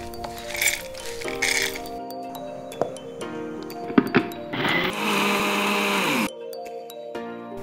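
A kitchen mixer grinder blends ingredients for Karnataka-style bisi bele bath in short bursts, whirring loudly a few times between clinks and rattles of the jar and utensils.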